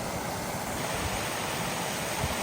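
Small waterfall beside a rocky creek on the Chestnut Falls hike in Balsam Grove, North Carolina, giving a steady, full rush of falling water that holds even and continuous throughout, with no voices.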